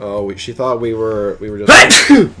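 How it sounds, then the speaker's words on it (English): A person sneezes once, loud and close, right after a short stretch of casual talk in a room. "That was a really delayed sneeze."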